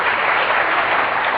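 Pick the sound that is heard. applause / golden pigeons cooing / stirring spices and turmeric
applause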